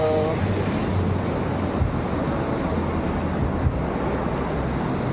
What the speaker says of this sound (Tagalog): Tamang nood lang kami ng mga alon.